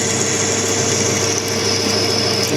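A sharp new drill bit bores into an air rifle moderator on a machine, a loud, steady whirring drone with a constant tone and no pauses.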